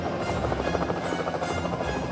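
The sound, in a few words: helicopter flying in Thomas & Friends cartoon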